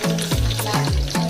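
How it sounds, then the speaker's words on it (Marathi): Garlic and curry leaves frying in hot oil for a bangda fish curry, a loud, dense sizzle with a low rhythmic scraping or swirling sound repeating roughly every half second. "तेल तापलं आता हे बघा लसूण टाकतं कढीपत्ता"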